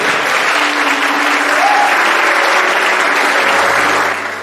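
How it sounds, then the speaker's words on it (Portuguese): A church congregation applauds during a 50th-anniversary thanksgiving service, a loud, full and continuous burst of many hands clapping that holds steady before tapering off at the close. "Vamos aplaudir mais forte, queridos, por essa vida."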